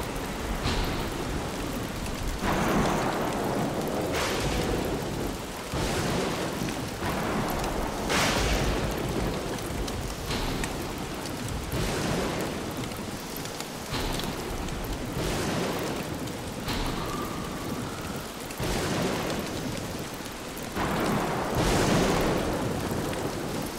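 A thunderstorm in the video game Don't Starve: Shipwrecked: heavy rain pours continuously while repeated loud thunder cracks and rumbles break through every few seconds, with no talking.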